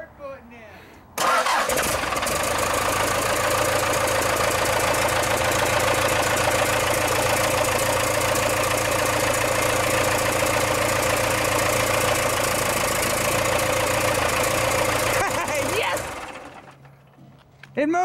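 A Ford F350 Bullnose truck engine cranks and catches, then runs at a steady, loud, close idle with a mechanical whir for about fifteen seconds before dropping off, with people talking around it.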